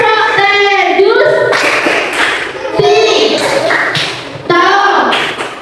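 Children in a primary school maths class clap for group 1, two bursts of rhythmic clapping with a teacher's voice and chanting between them.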